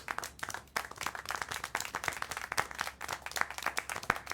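Steady applause from a crowd in a video game, many hands clapping in a dense, continuous patter that holds at an even level throughout.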